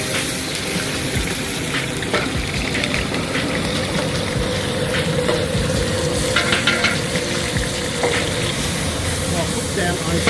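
Chopped onions frying in a large pot as the first step of a big batch of chili, a steady loud sizzle with occasional clinks of stirring, under a person speaking.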